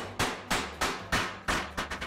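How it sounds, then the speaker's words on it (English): Hand-forging a steel skillet flat: about eight sharp, ringing hammer blows land in an uneven rhythm, close and loud, each one decaying quickly. "I'm gonna hammer just a little bit more."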